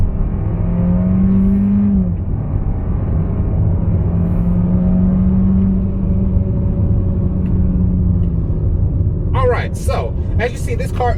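The four-cylinder engine of a 2021 Kia K5 revs hard under acceleration on a downhill road, producing a loud, steady drone heard from inside the cabin, with a voice briefly speaking near the end.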